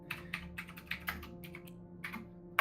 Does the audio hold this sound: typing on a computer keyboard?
yes